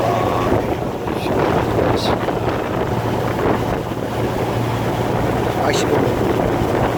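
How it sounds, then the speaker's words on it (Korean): A fishing boat runs on the sea off Seongsan Ilchulbong on Jeju Island, heard as a steady engine drone mixed with wind buffeting and washing water, loud and continuous throughout, with faint voices in the background. "낚시배 타고 갑니다"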